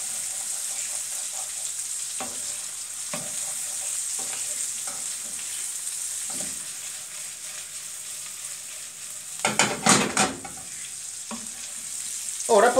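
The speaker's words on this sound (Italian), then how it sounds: "Avete il cipollazio che cuoce con la salsiccia, dategli delle mescolate così, i grassi si mescolano." Onion and sausage fry together in a pan under a constant close sizzle, with scattered spoon scrapes and knocks as the mix is stirred and a louder burst of stirring midway.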